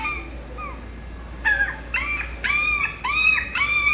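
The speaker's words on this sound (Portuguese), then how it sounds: "O cachorro novinho, né? parece o barulhinho do animal, do cachorrinho, o filhote." A young puppy whimpers in thin, high, rising whines, a few soft cries at first and then a louder run of repeated yelps close by.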